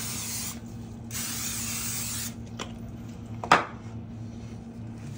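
Cooking spray hissing onto a pan in a home kitchen: two steady bursts of spray close to the microphone, then a short clatter, with no speech.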